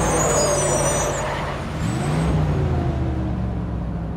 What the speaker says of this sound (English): the loud sound of car brakes